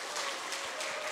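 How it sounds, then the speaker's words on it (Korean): A church congregation gives a short burst of welcoming applause at a Sunday morning service in Geoje, greeting new members finishing their orientation course; the clapping is dense and steady, with no voices over it. "여러분 환영의 박수로 축복의 박수 해주시면 고맙겠습니다"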